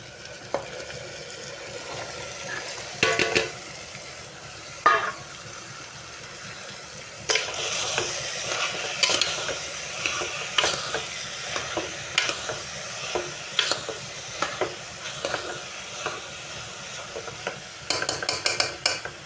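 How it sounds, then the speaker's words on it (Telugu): Ivy gourd pieces fry in a pan with tomatoes and coriander, giving a steady low sizzle broken by repeated scraping and clattering stirs of a spatula, loudest in short bursts toward the end, with no talking. "కొత్తిమీర టమాటాలు అయితే మగ్గుకొని దొండకాయలు వేసేసుకుంటున్నాం"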